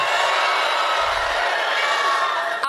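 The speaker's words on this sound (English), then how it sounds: "give us your loudest cheer" Loud rally crowd at a Turning Point USA event cheering and whooping in a dense, sustained roar that holds steady throughout without pause.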